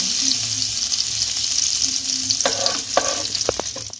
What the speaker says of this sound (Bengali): এরপরে কিশমিশটাও ভেজে নেব একদম হালকা, একটু নেড়ে চেড়েই আমি তুলে নেব